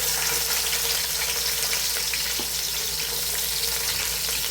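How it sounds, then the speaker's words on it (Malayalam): Sliced onions frying in hot oil in a pan for a chicken biryani masala, a steady close sizzle running unbroken and fairly loud throughout, with no voices. "ഇനി നമുക്ക് ഇതിലേക്ക് നമ്മളെ സബോളൊക്കെ ഇട്ട് കൊടുക്കാം കേട്ടോ. എണ്ണ ചൂടായിട്ടുള്ള എണ്ണ അല്ലേ"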